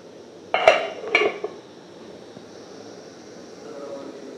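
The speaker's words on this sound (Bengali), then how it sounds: "এইবারে আমি ঢাকনা দিয়ে দেব।" A lid clanks twice onto a metal pot of simmering chicken gravy in a home kitchen, two sharp close metallic knocks about half a second apart, then a quiet low background hiss.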